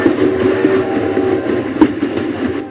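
A train rolls along its rails with a loud, steady rumble and faint rhythmic clacks, close and continuous with no voices.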